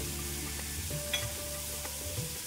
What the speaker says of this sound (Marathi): आता सुकं खोबरं टाकते।